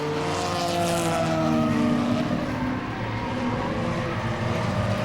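Stock race cars roaring around the oval at Langley Speedway during a nighttime enduro race, engines loud and sustained with shifting harmonic tones as cars pass, continuous and close with no pauses.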